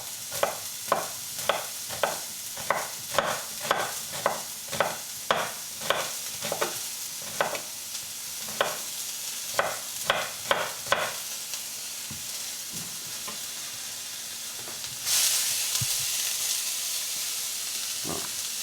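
Onion frying in a pan lightly oiled with olive oil, stirred with a steady series of crisp scraping strokes over a constant sizzle, the strokes stopping partway and leaving a louder burst of hissing near the end.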